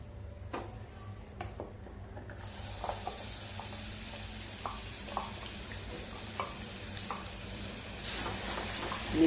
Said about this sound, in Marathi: आता वाटलेला मसाला घालूया।